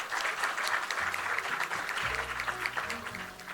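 Steady applause from an audience at a port-sector congress award ceremony, a dense continuous patter of many hands held at moderate level throughout, with a low hum underneath.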